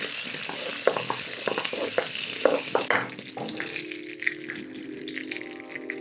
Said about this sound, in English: We just want to cook these to bring out the fragrance and lightly toast our spices.